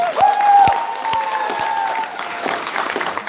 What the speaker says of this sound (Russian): Давайте похлопаем так, как будто вы себе хлопаете.